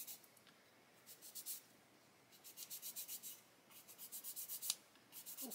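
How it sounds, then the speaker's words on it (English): A worn sanding stick rubs a part of a 1/32 scale HKM A-20G Havoc model flat, giving soft, rhythmic back-and-forth scratching strokes in quick bursts, close and quiet. "So we just sand this and get it nice and flat and level and everything."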